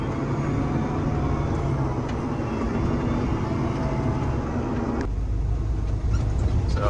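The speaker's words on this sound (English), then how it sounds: "Combine coming by while I'm taking this grain cart over there" A farm vehicle towing a grain cart along a road during wheat harvest in West Texas as a combine passes, steady loud low engine rumble with heavy mechanical drone that shifts abruptly near the end.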